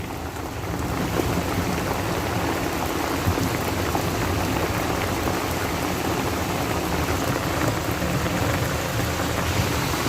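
Heavy rain pounds down in a dense, constant roar, loud and close, with no break and no voices over it.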